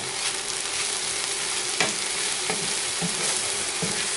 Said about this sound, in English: Mix the garlic in with the onions.